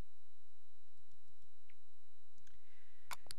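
A computer mouse double-clicks to open a folder: a few soft, faint clicks near the start, then a sharper cluster of clicks at the end, in a quiet room.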